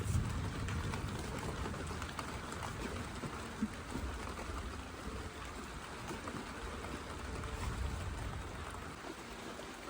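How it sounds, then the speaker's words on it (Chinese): Heavy rain pours during a night thunderstorm, making a steady, even hiss that continues unbroken and fairly faint throughout, with no voices. "现在已经开始下大了"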